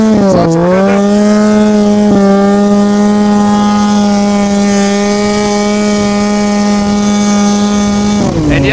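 A snowmobile engine screams at full throttle for several seconds, a steady droning whine with strong harmonics, close and unbroken after a brief initial rev.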